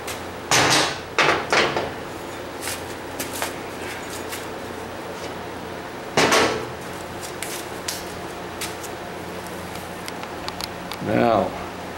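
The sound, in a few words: heavy 4 by 6 steel tubing being moved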